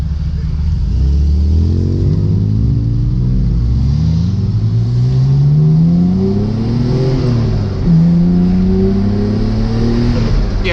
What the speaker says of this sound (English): if you just stay in boost in this car, it's fast as fuck